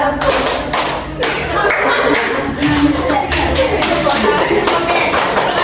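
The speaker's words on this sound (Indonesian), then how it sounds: "Tepuk siku, tepuk pundak, tepuk tangan." Children's clapping game of tapping elbows and shoulders, then clapping hands, during a classroom lesson: a steady run of close claps and soft thumps under a chanting voice.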